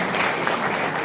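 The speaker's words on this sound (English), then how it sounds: "So give a big applause because they are holding" An audience at a college hackathon event claps in a brief, dense, steady burst of applause, fairly loud and close, with no speech over it.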